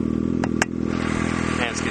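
A Kawasaki Ninja ZX6R 636 fitted with an M4GP slip-on exhaust holds a steady high rev around 6,700 RPM, a loud, close, buzzing drone with faint clatter on top.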